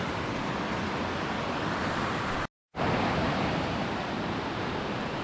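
A small waterfall on a river among sandstone rocks in Scotland, pouring as a steady, full broadband rush at close range, broken by one brief silent gap before resuming unchanged.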